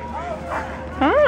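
A dog gives a short yip and whining bark close by, over a steady background hum.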